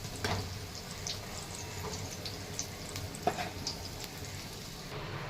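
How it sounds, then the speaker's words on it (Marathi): Chili pakoras (mirchi pakoda) fry in hot oil, turned to cook on both sides, giving a faint, steady sizzle with scattered soft crackles and pops throughout. "तर दोन्ही साईडने आपल्याला छान तळून घ्यायचे आहेत"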